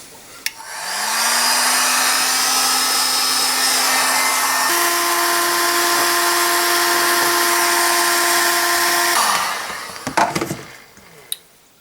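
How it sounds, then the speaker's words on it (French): Heat gun blowing hot air onto the front wheel hub of a 1954 Panhard Junior, warming it to fit a seal and bearing; a steady loud whooshing roar for about eight seconds with a constant tone that shifts up midway, then clicks after it cuts off. "C'est pour ça que je prends un décapeur thermique, c'est moins violent qu'un chalumeau."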